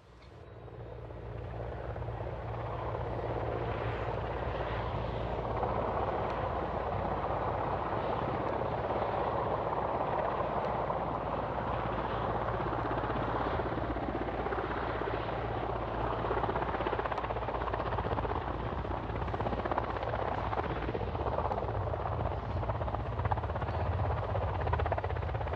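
Helicopters at the Soyuz landing site on the steppe of northern Kazakhstan give a steady, loud rotor drone with a low throbbing beat that goes on without a break, with no voices.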